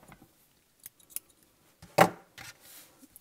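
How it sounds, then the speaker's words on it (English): Scissors snip through crochet yarn in a single crisp cut, near and clear, after a few faint rustles and small clicks of handling. "you just cut the yarn"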